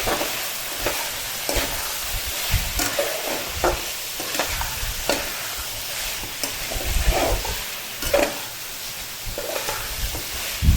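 Ground spices sautéing in a pan for Bengali chicken kosha, a steady sizzle broken by repeated scraping stirs of a spatula, close and fairly loud with no talk.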